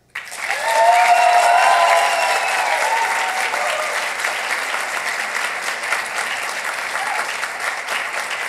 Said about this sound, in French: je veux demander aux participants du Parlement francophone des jeunes des Amériques de témoigner par leurs applaudissements leur degré de satisfaction